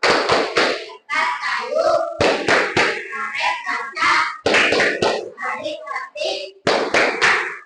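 Schoolchildren in a classroom chant in unison while clapping a rhythmic pattern, crisp claps landing between loud group voices in a lively, regular beat.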